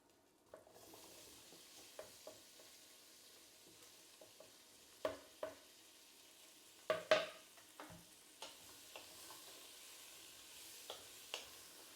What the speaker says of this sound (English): a little bit more oil, and in go all of our vegetables